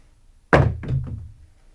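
Craps dice are thrown onto a table in practice play, landing with a single hollow thunk and then a couple of quick follow-up knocks as they tumble and settle. The sound is close, with no talking.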